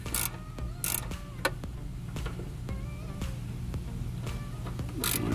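A ratchet tightens bolts on the fuel pump plate of a 2006 Scion xB in a crisscross pattern, with close, repeated clicking bursts and faint mechanical rattles over low background hum.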